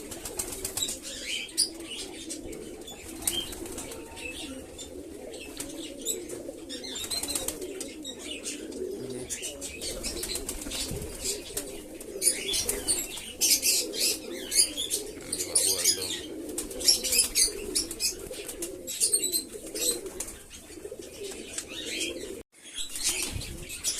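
Gola-line pigeons at feeding time, wings flapping in repeated bursts amid soft cooing and occasional chirps, fairly quiet and close, lasting throughout.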